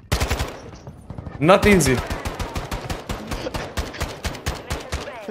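Rapid automatic gunfire from X13 Auto pistols in Call of Duty Modern Warfare 2, dense loud bursts of close shots, with someone speaking briefly over them.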